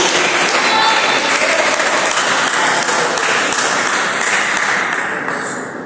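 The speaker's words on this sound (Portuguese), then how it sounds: "Quem pode dar uma salva de palmas bem alegre para Jesus?" Church congregation gives loud, joyful applause during an evening service, a thick, close wall of clapping that holds strong for several seconds and then gradually fades.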